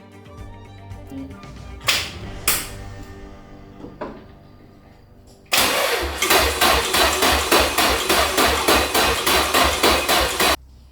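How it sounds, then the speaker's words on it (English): Loud, steady rhythmic chugging of a Nissan Silvia engine being cranked over by its starter, running for about five seconds after a few sharp knocks, in a failed first start. "at least make the engine spin fast"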